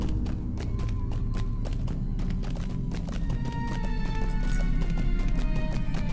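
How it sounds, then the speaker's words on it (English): Hoofed goat mount footsteps in Lord of the Rings Online, a steady run of clip-clop hoofbeats over an ambient game soundscape with music-like tonal layers, continuous and fairly loud throughout. "I could technically filter out the goat's feet."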